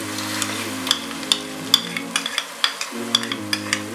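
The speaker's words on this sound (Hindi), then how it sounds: "अब हम इसमें अदरक लहसुन का पेस्ट डालेंगे।" Ginger garlic paste fries in a pan with onions as cooking food, giving a steady sizzle under soft stirring scrapes and small pops, close and moderately quiet, with no talking.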